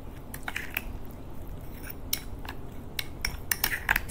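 A spoon stirring aloe vera paste with saffron in a small bowl, giving close, irregular wet squishes and light clinks and scrapes against the bowl.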